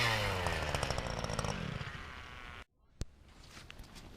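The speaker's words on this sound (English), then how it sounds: "All they're doing right now is they're just drilling holes and looking for fish." Gas-powered ice auger drilling fishing holes through lake ice, a loud buzzing two-stroke engine whine that runs steadily then cuts off abruptly, followed by a sharp knock and quieter outdoor ambience.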